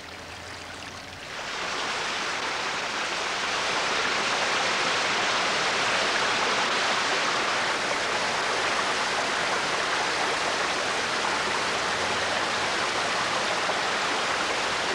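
Flowing water rushes in a steady, dense wash that swells in after a quieter first second, then holds loud and unbroken, with no voices.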